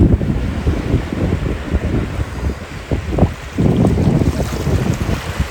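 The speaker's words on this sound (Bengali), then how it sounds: "কি বড় বড় ঢেউ আমার এখানে দাঁড়িয়ে থাকা কষ্ট হয়ে যাচ্ছে প্রচণ্ড বড় বড় ঢেউ" Big waves crashing on the Arabian Sea shore, a loud, continuous roar of surf and heavy wind buffeting the microphone throughout.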